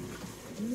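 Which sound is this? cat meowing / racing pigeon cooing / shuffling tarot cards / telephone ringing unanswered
racing pigeon cooing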